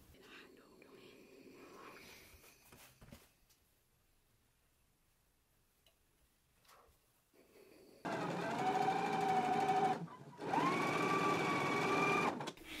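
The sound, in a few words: sewing machine stitching down folded seam edge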